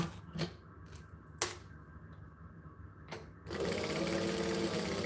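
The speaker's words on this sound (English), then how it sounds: "Boom, back stitch, needle down, pivot, cut that one off." A sewing machine stitching fabric in short bursts with pauses, including a back stitch and needle-down pivot, then running steadily and close for the final stretch.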